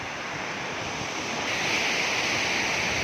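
A waterfall in the Konkan pours with a heavy flow, a dense, constant rushing roar that swells a little louder halfway through.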